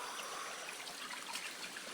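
Creek water flowing over wide, flat stones beside a small waterfall makes a steady, soft trickling wash with no pauses, fairly faint and with no voices over it.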